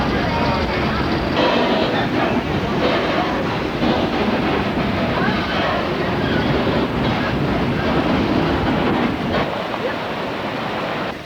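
Ride in an open-air train car, with loud, continuous rumbling and rattling of the wagon rolling along the track, plus wind noise, steady throughout the whole stretch.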